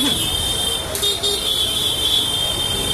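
Motorbike and car horns toot in busy traffic, a sustained high beep running through nearby engine and road noise, with a few overlapping honks.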